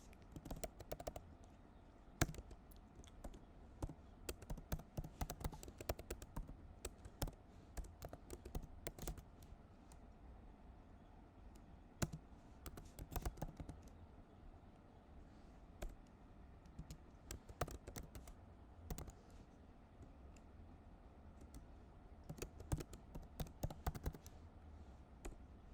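Steady typing on a computer keyboard while Flutter code is written, with irregular bursts of quiet key clicks and short pauses throughout, close up, with no talking.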